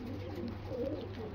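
Racing homing pigeons back from a race coo softly and repeatedly nearby, a low murmuring burble over faint background noise.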